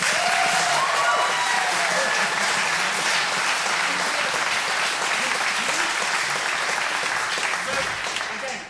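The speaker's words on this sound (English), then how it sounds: "Huge round of applause for this legend." Loud, dense audience applause at a cup awards event, a steady roar of clapping close and continuous for several seconds before trailing off.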